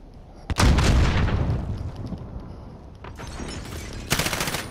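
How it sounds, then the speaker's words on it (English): An enemy precision airstrike in a first-person shooter video game, with two sharp, heavy blasts a few seconds apart, each followed by a rumbling roar, loud and near. "Enemy precision airstrike, take cover!"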